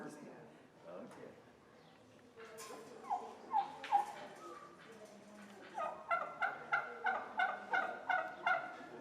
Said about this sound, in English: very nice group of market turkeys here today